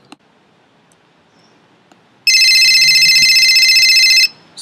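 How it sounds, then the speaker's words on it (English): A telephone rings in one loud, unbroken burst of about two seconds after a near-silent room, then cuts off abruptly. No one speaks. "It's the phone."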